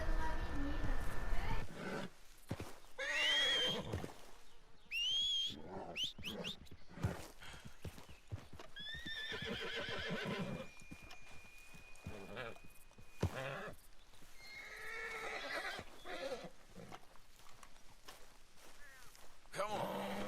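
A horse in Red Dead Redemption 2 neighs and whinnies several times while hooves clop and shuffle nearby, with a voice speaking between the animal sounds.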